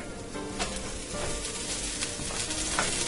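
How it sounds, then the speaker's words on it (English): Steady sizzling from margarine melting in a hot frying pan, a continuous soft crackle with a few small pops and light scraping. "in my large frying pan, I'm going to throw in a quarter of a cup of margarine"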